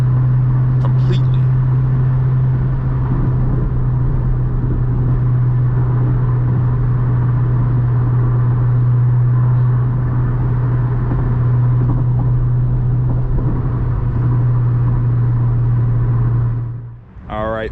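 A 2006 Acura RSX Type S cruises with a steady, loud engine drone and road rumble filling the cabin, holding an even pitch throughout before easing off near the end.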